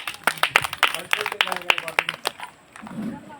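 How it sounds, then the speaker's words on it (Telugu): Students clap loudly together in a quick run of crisp, close hand claps for about two seconds, then the clapping dies away into quieter room noise as people talk. "క్లాప్స్ అందరూ గట్టిగా కొట్టండి."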